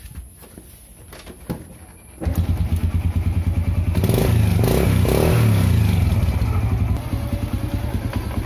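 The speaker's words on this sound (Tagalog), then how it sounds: "pakinggan mo na yung tunog ng makina" A second-hand motorcycle engine starts after a brief scrape and thump, then idles steadily with a loud, close, throbbing rumble that swells briefly as it revs before settling back.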